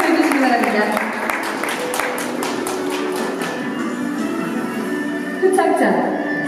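Audience applause at a 2020 volunteers' day award ceremony in Eunpyeong district, a steady wash of clapping from a seated crowd that holds for several seconds and swells again near the end.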